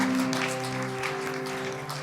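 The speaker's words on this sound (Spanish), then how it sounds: "¿Cuánto le damos una ofrenda de palmas al Señor?" A church congregation applauds in praise to the Lord, a dense wash of clapping over a sustained, held keyboard chord.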